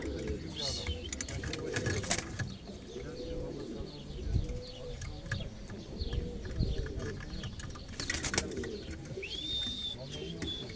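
Tumbler pigeons crowd a coop, cooing and fluttering close by while someone talks over them; wing flaps and soft calls recur throughout.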